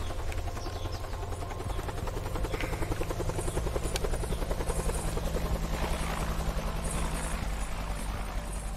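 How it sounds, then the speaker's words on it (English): A helicopter in the video game Chained Together, its rotor chop a steady, close, loud beating that runs the whole time, with a few faint sharp sounds over it. "Get to the chopper."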